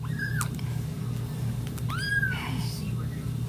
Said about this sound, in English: this one meows like it is ear piercing when she meows really loud